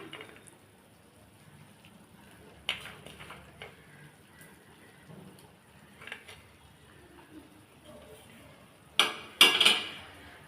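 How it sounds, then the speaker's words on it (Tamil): A spoon scrapes and clinks against a pan while rava kesari with cashews and raisins is stirred, sparse soft knocks building to two sharp metallic clatters near the end. "இது நல்லா கலந்து விட்றலாம்"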